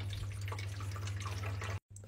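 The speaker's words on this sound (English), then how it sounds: "You need 800 mils of water, which goes in here." Water poured into a slushie maker, a steady trickling splash with a low hum beneath it that cuts out briefly near the end before resuming.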